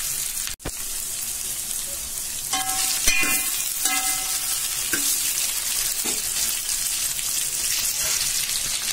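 Ingredients for a dried fish curry sautéing in a pan, a steady loud sizzle with bright clinks and scrapes of a utensil against the metal and one sharp knock near the start, heard alone without speech.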